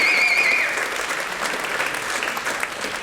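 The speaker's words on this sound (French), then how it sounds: "salve d'applaudissements pour le jury quand même" Applause for the jury at a board game awards ceremony, a brisk round of clapping from the audience with a brief whistle-like tone at the start, holding fairly steady at moderate volume.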